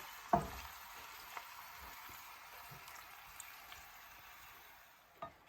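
Meat dropped onto three sliced medium onions frying in oil in a pan for mutton bhuna, giving one soft thud at the start, then a quiet, steady sizzle with a few faint stirs and a brief clatter near the end.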